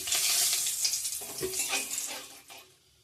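Whole spices, cardamom, garam masala and cloves with chilli and cumin, frying in a pan for palak paneer give a bright, hissing sizzle. It is loudest at first, breaks into a few scrapes and crackles, then fades to near quiet.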